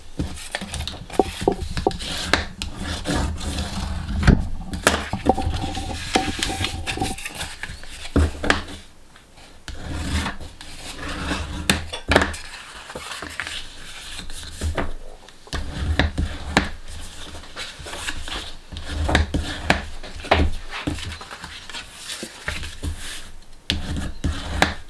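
Folds are scored into card for a handmade watercolour box, giving a long run of close, irregular scraping and tapping strokes with short pauses between passes.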